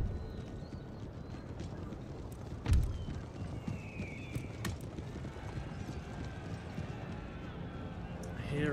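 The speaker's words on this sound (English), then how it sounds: "I hear cavalry charge noises." Cavalry charge in Empire: Total War, galloping horse hooves drumming in a rapid rumble beneath battlefield noise, with a sharp thump of cannon fire early on and a person talking over the game sound.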